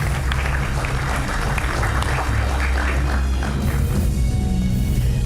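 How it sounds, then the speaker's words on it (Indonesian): Studio audience clapping for a guest arriving on a talk show, a loud, steady stretch of applause over heavy low rumble and thuds. "Tepuk tangan untuk Bung Felix Fernando Wanggai."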